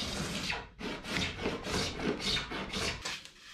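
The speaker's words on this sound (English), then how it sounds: "I'll sand this down and then fair it, and it should be okay. Starting by those seams there." Rhythmic rasping strokes of sanding on fibreglass seams of a homemade boat hull, about eight steady back-and-forth passes, close and fairly loud with no talking.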